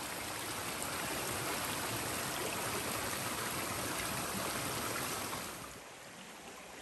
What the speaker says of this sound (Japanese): 山道を歩いて行くと水音が聞こえてきました。 森の傾斜を流れている自然のままのせせらぎ。